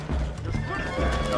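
A horse neighs and whinnies in the video game Red Dead Redemption 2, a short loud call over hoof clip-clop, with a voice talking at the same time.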